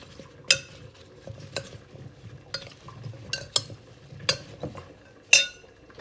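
A spoon stirs homemade hamburger mix with olive oil in a bowl, giving a few sharp, irregular clinks against the side over a soft, steady mixing rustle, close and without talk.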